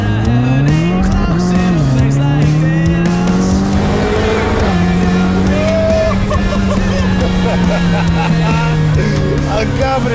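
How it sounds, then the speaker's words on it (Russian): A burned-out Ferrari sports car, rebuilt and on its first drive, revs with a rising and falling engine note that sings loudly through the whole stretch, with brief tyre-like squeals and voices in the background. "Прям она вот запела сейчас эта машина."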